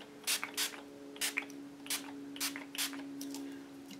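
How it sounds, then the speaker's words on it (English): Yellow spray paint hisses from a can in a series of short, separate bursts at close range, misted onto a toilet paper roll craft, with a steady faint hum beneath and no talking. "I'm just going to go in with some yellow spray, kind of lighten it up a little bit."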